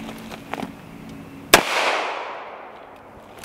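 A single gunshot fired into a rolled-up carpet cracks out sharply, followed by a rolling echo that fades over a couple of seconds, with quieter rustling before it.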